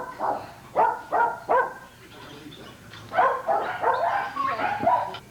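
Dogs bark in an outdoor shelter exercise yard, several sharp barks in a quick run, then a looser cluster of barks and yips from more than one dog, fairly close and loud.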